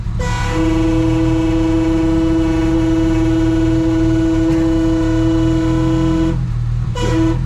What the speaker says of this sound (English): You have to keep blowing the horn.